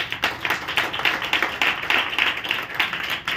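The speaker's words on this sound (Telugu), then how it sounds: "క్లాప్స్ కొట్టాను అందరూ ఒకసారి." A church congregation claps together during a Sunday worship service, a dense steady patter of many hands lasting throughout, fairly close and even in loudness.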